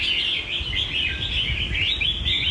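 Caged songbird singing a continuous run of bright, sharp chirps and trills, close and clear against a quiet background.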